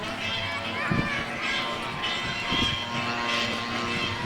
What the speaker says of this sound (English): Father Bob's airplane up there